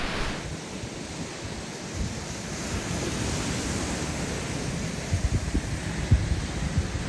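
Ocean waves wash onto the popular town beach at Trinidad in Humboldt County, California, as a steady broad roar of surf with wind noise and some low buffeting thumps toward the end, no voices.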